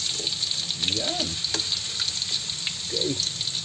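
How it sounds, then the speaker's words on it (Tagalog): Oil sizzling and crackling steadily as carrots fry in a pan, with occasional stirring clatter and a brief voice in the background. "Kunting prito lang yung carrots natin."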